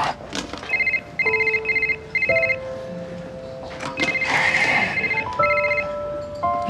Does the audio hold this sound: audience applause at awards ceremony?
no